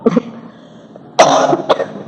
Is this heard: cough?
yes